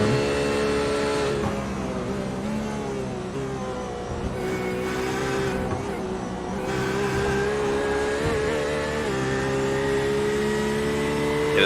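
Porsche race car engine in a racing video game at Daytona International Speedway at night, a loud sustained in-car drone with shifting pitch as it revs and changes gear, no talk.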